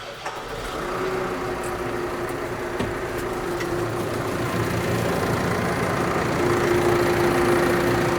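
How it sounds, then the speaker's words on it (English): An off-highway diesel engine cranks and catches, then settles into a steady, rumbling idle that holds loud and even, with no one speaking. "So again, let's start the engine up."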